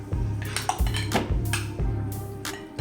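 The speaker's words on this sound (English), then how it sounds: "Now we're going to stir this up." A cornstarch mixture for peach cobbler is stirred in a metal pot, producing close clattering scrapes and knocks of a utensil against the pot in an irregular rhythm, with no speech.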